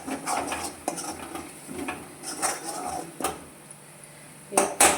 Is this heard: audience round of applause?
no